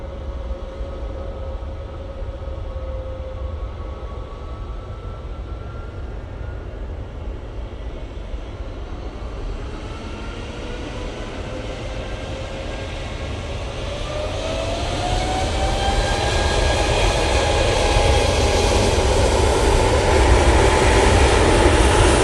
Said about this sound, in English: TUI Dreamliner now arriving.